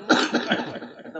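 A person coughs several times in a short burst. The coughs come close and fairly loud, then fade into rough breathing.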